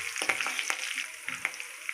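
Curry leaves and green chillies frying in oil, a soft close sizzle broken by sharp crackles and a few light stirring scrapes, faint and with no talking.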